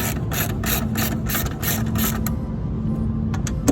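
Quick ratchet clicking as a hand ratchet cracks loose 10mm bolts on a Ford Fiesta ST strut brace, a steady run of close, crisp pawl clicks that stops partway, followed by a couple of faint knocks.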